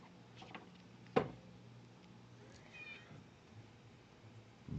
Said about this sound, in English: Cat making loud noises.